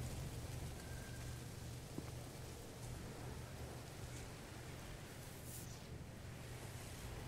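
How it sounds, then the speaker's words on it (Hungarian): Steady rain storm in No Man's Sky, a broad, continuous hiss of falling rain that holds evenly throughout with no talk over it. "Az eső, bazd meg."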